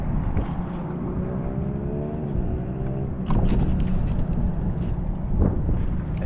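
Bass boat cruising on Lake Guntersville, a steady engine drone with water rush and heavy wind buffeting the microphone, loud and continuous with a few gusty bursts.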